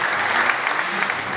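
A church congregation claps for the Lord during a sermon, a brief, dense burst of steady applause with voices faintly mixed in.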